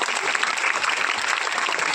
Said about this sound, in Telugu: చప్పట్లు కొట్టి అభినందించాల్సিన అవసరం ఉంది